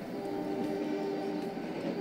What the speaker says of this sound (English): Stan came whooshing by pulling his very first freight train, and Chad could barely keep up with him.